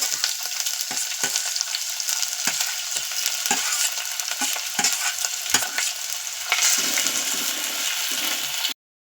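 Garlic and ginger fry and get stirred in a pan for a fish curry, a steady loud sizzle broken by repeated scraping strokes of the spoon, with no voices.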